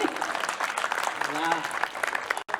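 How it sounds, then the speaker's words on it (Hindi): An audience at a Hindu devotional poetry gathering claps after a bhajan ends, a dense patter of applause with voices mixed in. "भजन समाप्त, तालियां बजाइए।"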